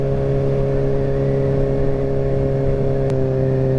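A 2017 Kawasaki ZX6R sport bike holds speed with a steady, loud, buzzing engine drone, pitch nearly constant, plus a brief click near the end and no speech.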